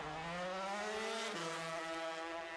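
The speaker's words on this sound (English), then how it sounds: "Just listen to those two strokes, they're so sweet on the power" Two-stroke lightweight racing motorcycles scream past on the Manx Grand Prix road course, a loud, steady high-revving buzz whose pitch drops partway through as a bike goes by, with no voices.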